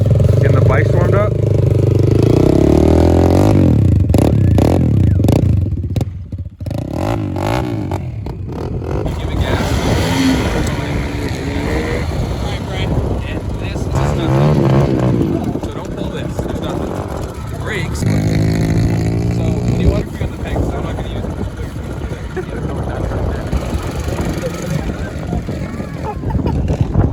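Pit bike engines idling and revving indoors inside a house, a loud continuous motor drone that rises and falls, with people talking over it.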